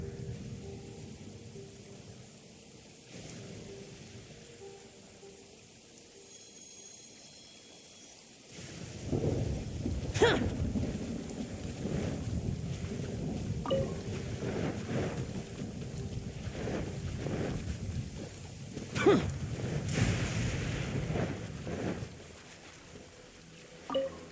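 Rain and rolling thunder in Genshin Impact, set during a battle in Inazuma: a steady wash of rainfall swells louder after a quiet opening, with several booming thunder crashes breaking through and no voices.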